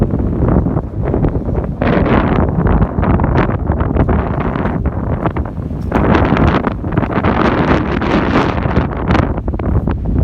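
Strong wind blows across an open mountain campsite, roaring and buffeting the microphone in continuous, uneven gusts for the whole stretch, loud and close, with no voices.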